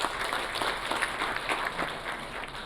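An audience at an awards night applauds in a steady, full burst of clapping that carries evenly across the moment, with no speech over it.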